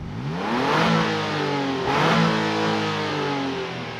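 A 2022 Nissan Frontier PRO-4X pickup truck revs its engine outside, two rising surges of mid-pitched engine roar about a second apart, loud and steady with no talk.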